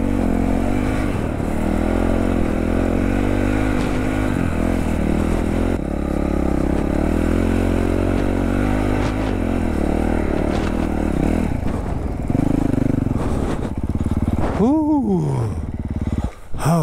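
A 2021 Honda CRF 450 RL dirt bike on Dunlop D606 tires, its engine loud and near throughout, revving and surging with gear changes, ending in a few sharp rev swells.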